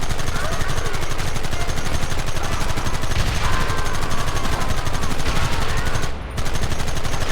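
Shootout gunfire in the Red Dead Redemption video game, rapid repeated shots crackling densely and continuously at close range, with a brief dip near the end.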